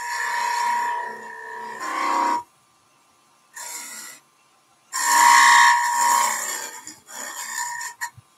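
Wood is hand-sanded with 150 grit abrasive in short bursts of dry rasping friction, close by, separated by silent pauses.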